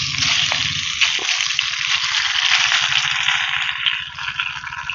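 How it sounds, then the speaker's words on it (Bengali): Boiled white pasta tipped into a pan of fried ingredients, giving a loud, steady sizzling hiss with light clatter that runs without a break. "এবার এর মধ্যে দিয়ে দেবো পাস্তা।"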